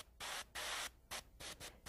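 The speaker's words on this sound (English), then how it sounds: "Then I'm going to take the pearl blue and spray along the frisket edge and build that color up slow" An airbrush sprays pearl blue paint along a frisket edge during fingernail chevron nail art, hissing in several short bursts of varying length with quiet pauses between, close and soft.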